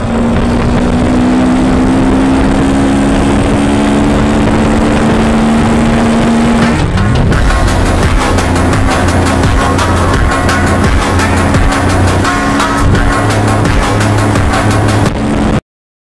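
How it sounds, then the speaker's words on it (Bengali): Honda SP motorcycle engine heard while riding, a steady loud drone that shifts pitch midway as the bike changes gear or speed, then continues evenly until it cuts off at the end. "তো এবারে তোমাদেরকে বাইকটা আমি চালিয়ে বাইকের সাউন্ডটা কেমন দিচ্ছে সেটাকে শুনিয়ে দেবো।"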